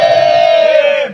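A protest crowd's loud, sustained chant, a single drawn-out shouted slogan held by many voices for about a second before trailing off.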